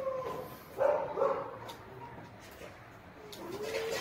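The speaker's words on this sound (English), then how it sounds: "She is very shy at strangers. But she is a sweet dog." A shy dog meeting a stranger gives a couple of short, soft whining or yelping vocalizations close by around the first second, then a faint whine near the end, over quiet room noise.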